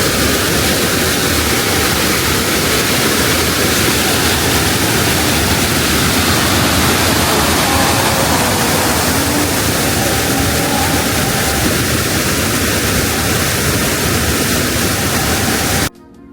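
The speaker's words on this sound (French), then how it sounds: "Donc on a fini la visite de la cascade." A waterfall in Vietnam, a loud, dense and steady roar of rushing water that continues unbroken for the whole clip and stops abruptly at the end.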